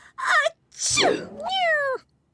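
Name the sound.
allergic sneeze caused by a cat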